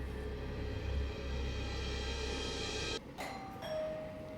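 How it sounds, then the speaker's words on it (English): A doorbell rings out partway through, a sharp chime breaking into a low, steady background hum, followed by a lingering tone. "That doorbell did make me jump."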